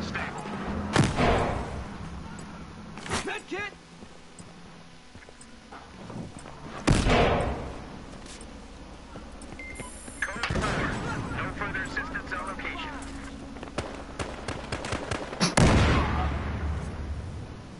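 Gunfire in the video game Battlefield Hardline, with an L82A2 rifle in use: sharp, loud single shots and bursts crack out at irregular intervals across a noisy game mix, with steady background rumble between them.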